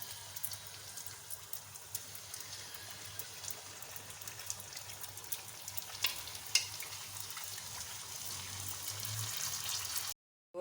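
Golgappa puris fry in hot oil with a constant soft sizzle and scattered crackles, steady and close throughout before cutting off at the end.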